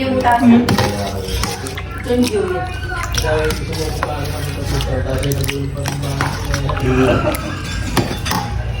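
Mango jelly salad with cheese being stirred in a bowl, steady scraping and clinking of a spoon against the dish under ongoing conversational talk nearby.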